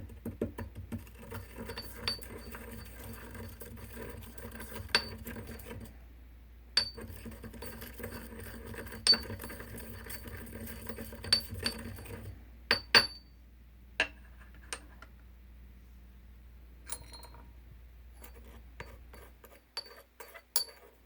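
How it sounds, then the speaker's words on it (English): Dried incense herbs being ground by hand, giving repeated soft scraping and crunching with sharp clinks and taps of the tool against the bowl, steady for the first half, then sparser isolated knocks, close and fairly quiet. "Then you want to grind your herbs up."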